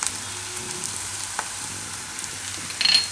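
Chopped garlic sizzles into onions already frying in a pan for a paneer bhurji, a soft continuous crackle with a faint tap of a utensil and a brief louder hiss near the end.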